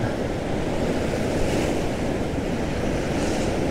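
Rough sea stirred up by strong wind on a sandy beach between storms: a steady, loud roar of breaking waves mixed with gusting wind buffeting the microphone, continuous and without voices.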